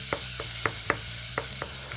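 Food sizzles steadily in a hot frying pan while a utensil scrapes and knocks against it in irregular strokes, about seven distinct taps over the continuous frying hiss.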